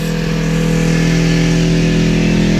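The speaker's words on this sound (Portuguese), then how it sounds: "a moto tá com 5 mil giros" A motorcycle engine with a Jeskap GP3R exhaust tip holds a steady 5,000 rpm, a loud, continuous droning buzz close by with no voices, measuring about 98.8 dB(A).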